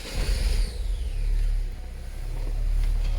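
A Saab car engine catching and settling into a steady low idle, close and fairly loud, with slight pulsing revs and no talk.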